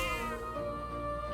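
Cat meowing in the fantasy role-playing video game Metaphor: ReFantazio, a single drawn-out, tonal meow over a steady low game-music bed, close and clear with no talking.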